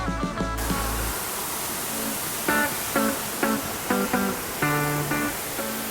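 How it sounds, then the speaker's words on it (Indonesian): Efrata falls pours down heavily in a constant, dense rushing roar, with short, clear tonal bursts breaking through at intervals above the steady wash of water. "tumpahan air terjun Efrata ini begitu deras"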